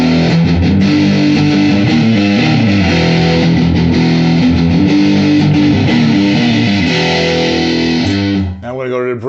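A Harley Benton electric guitar played through heavy distortion, with loud, thick chugging riffs and sustained chords on the neck pickup that ring steadily for several seconds before cutting off, followed by a brief scrape.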